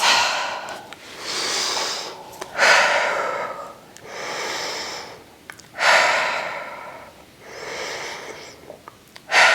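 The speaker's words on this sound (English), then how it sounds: "Breathing in through the nose and out through the mouth." A person breathes in through the nose and out through the mouth during a Pilates reformer lower-body workout, with slow, loud, close breaths in a regular cycle of long exhales separated by sharper sniffing inhales, no talking.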